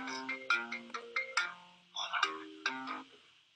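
A phone ringtone plays a repeated melodic pattern of clear electronic tones, several short phrases in steady rhythm, fairly close and alone with no talk.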